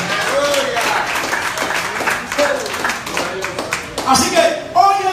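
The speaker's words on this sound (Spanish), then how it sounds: "Da un aplauso porque Él se lo merece." A church congregation claps and applauds during a worship service, a steady mid-level wash of handclaps running throughout, with voices calling out over it and a louder burst near the end.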